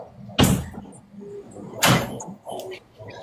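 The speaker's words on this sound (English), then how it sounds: "can you shut the door" A door is shut twice, each a sharp, loud thud about a second and a half apart, followed by fainter knocks and a light rattle.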